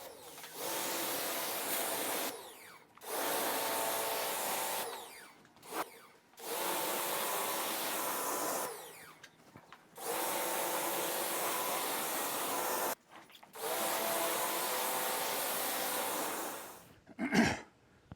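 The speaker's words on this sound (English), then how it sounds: "So I'm going to spray it, just quickly spray it off one more time" A pressure washer sprays a wooden deck in long, steady bursts of hissing noise, broken by short pauses, close by with no talking.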